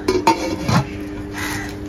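A nonstick pan's lid being handled, a few close metallic clinks and knocks in the first second, followed by a quiet lingering ring.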